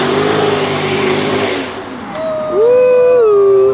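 Cars racing past, an Infiniti and a Kia Stinger, engine roar fading away over the first seconds, then a loud nearby engine revving up with a rising, held pitch, close and dominant.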